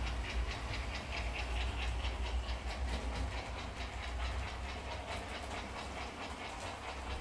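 Model trains running on a home layout, with a continuous rolling rumble and a steady rapid clickety-clack of wheels over rail joints, close by, heard alone without talk.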